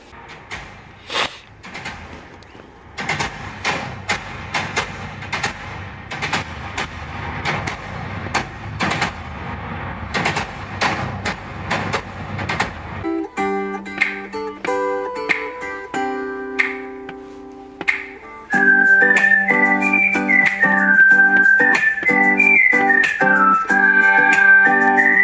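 Music played through the 20-speaker Revel Ultima audio system inside a Lincoln Nautilus midsize SUV, with sharp percussive hits up front, then a melodic section and a sustained, fuller passage, loud and steady with no talking.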